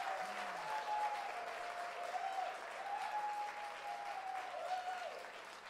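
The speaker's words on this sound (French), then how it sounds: "vous pouvez applaudir plus que ça" A congregation at a church service applauds steadily in a dense, continuous wash of clapping, with a sustained tone running underneath.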